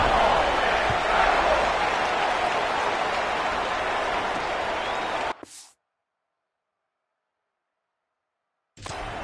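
A home crowd roars steadily at a college football game involving the Ole Miss Rebels, a loud, dense wash of cheering that cuts off abruptly into silence before briefly resuming near the end.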